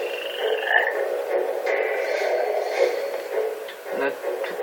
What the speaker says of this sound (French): il y a des nouveaux crapauds.